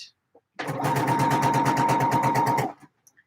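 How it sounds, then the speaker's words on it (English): Sewing machine stitching the right sides of fabric together for a D&G shirt, a steady whirring run of about two seconds with rapid rhythmic needle pulses, close and clear, bracketed by brief quiet. "I am sewing the right sides together, aren't I?"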